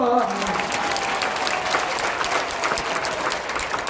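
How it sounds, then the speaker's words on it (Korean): A church audience at a Korean worship service breaks into sustained applause, a thick even wash of clapping that holds steady throughout, with a brief voice at the very start. "박수 좀 쳐봐."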